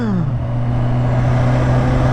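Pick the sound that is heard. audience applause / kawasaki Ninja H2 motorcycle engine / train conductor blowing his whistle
kawasaki Ninja H2 motorcycle engine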